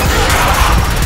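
A loud, close frag grenade blast in Gears of War Judgment, a short burst of dense crashing noise that fills the moment without any talking.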